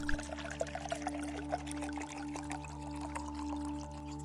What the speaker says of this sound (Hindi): जब आप ऐसा करके ग्लास में जूस डालने की कोशिश करते हैं तो वो जूस अक्सर आपस में आसपास गिर जाता है